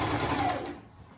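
A sewing machine stitches fabric in a brief, close whirring run that slows and trails off after about a second.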